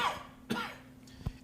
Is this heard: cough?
yes